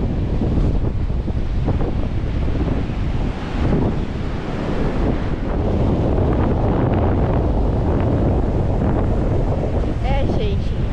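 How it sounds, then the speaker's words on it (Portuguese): Strong wind on a beach buffets the microphone in a constant loud roar, blowing sand, with surf rumbling underneath throughout. "tá ventando muito. A areia tá voando e batendo na perna"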